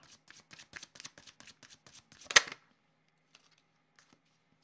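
A deck of playing cards being shuffled up close, a quick string of crisp flicking riffles that ends in one louder snap, then near silence with a few faint taps.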